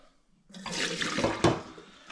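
Leftover water from the bottom of a steam juicer pan is poured into a sink, giving a short, close splashing gush that swells and then tails off after a brief quiet start.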